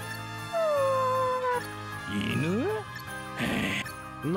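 A dog whimpers and whines in the video game Bravely Default II, with high, sliding whine tones over steady background music and chimes, followed by a few short yips.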